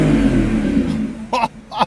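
A 2025 Lamborghini Revuelto's naturally aspirated V12 rumbles steadily up close, with a short voice breaking in near the end.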